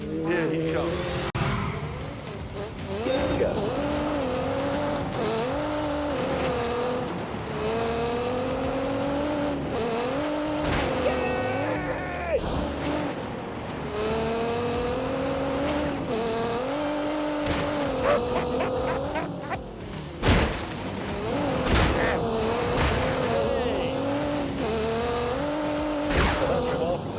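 Race car engine from The Grand Tour video game on a flying lap, droning steadily with rising and falling pitch through gear changes, with brief tire squeal, under continuous commentator talk.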